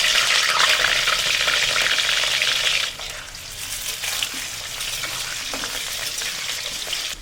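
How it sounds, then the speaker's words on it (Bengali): Potato pieces fry in hot refined oil in a kadai, a loud dense sizzle at first that drops suddenly near the middle and carries on softer and steady, with faint stirring clinks. "কড়া বসিয়ে দিয়ে দিচ্ছি রিফাইন অয়েল। প্রথমে ভেজে নেব আলুগুলো।"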